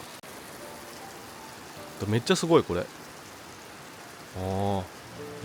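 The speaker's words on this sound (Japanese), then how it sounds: "どうでしょう、この川の音が聞こえますか？" A river and waterfall roar steadily beside a mountain footpath in Oita, Japan, as a continuous rushing wash. A person speaks briefly over it, followed by a short voiced exclamation.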